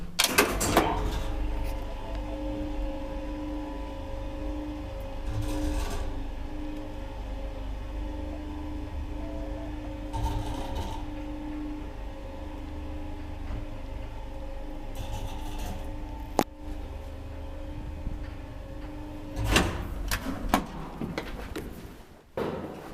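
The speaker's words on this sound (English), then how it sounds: "This amazing early 60s elevator with warning caps and" Early-1960s Kone traction elevator with warning caps, doors and MP6 fixtures in a Helsinki apartment building runs steadily, a low hum and whine under mechanical clicks, with door and relay clunks near the start and end.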